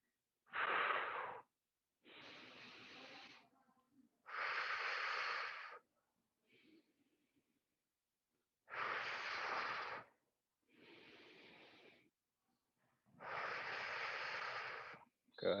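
Breathing during a leg-kick exercise: seven loud, close breathy bursts that alternate exhale and inhale, each lasting about a second, separated by short silences in a slow, regular rhythm.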